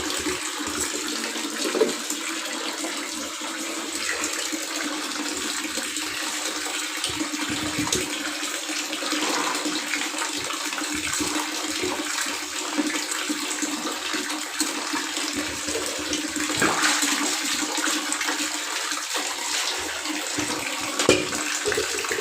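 Water runs steadily from a tap while clothes soak in a household wash, a continuous rushing splash lasting the whole stretch with small swells in loudness and no talking.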